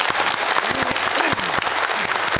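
A seminar audience claps together in one steady burst of many hands. The sharp, dense slaps carry on evenly through the whole moment with no talking over them.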